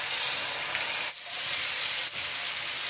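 Ground spice paste hits hot oil in a pan for Indonesian yellow pickled tilapia, making a loud, continuous sizzling hiss broken by two brief dips.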